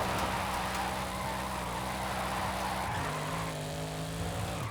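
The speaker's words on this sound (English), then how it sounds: "It's just the sound of the turbos on the inside. Really, really loud turbos." Engine and turbo whine from a lowered car in Forza Horizon 5, heard from the interior view: a loud, steady drone with sustained tonal hum that shifts pitch partway through, no talking.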